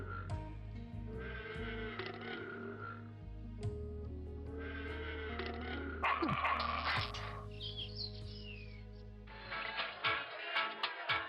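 Dog barking in the building-management game Constructor Plus, several short barks and yelps over a looping music bed, with other quirky animal-like cries mixed in.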